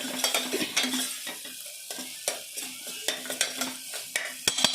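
Ginger garlic paste frying with mutton in a pan, a steady sizzle broken by repeated sharp scrapes and knocks of a spoon stirring, close and rhythmic.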